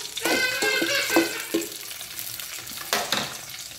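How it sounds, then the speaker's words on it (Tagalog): Sautéed sardines cooking in a pan, with a spatula clattering and scraping in several quick strokes over a bubbling sizzle, then a brief watery rush near the end. "Mabilis lang naman ito maluto kasi nga ginisa na sardinas."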